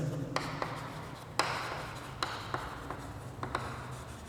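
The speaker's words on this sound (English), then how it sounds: "So we will write the equation" Chalk or a marker writes equations on a board during a lecture on a constant-k low-pass filter. There are scratchy strokes with intermittent sharp taps, close and moderately loud, with no speech over them.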